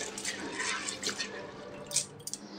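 Faint, close splashing and dripping as wheat grains are rinsed in water, with a few brief trickles and drips near the end.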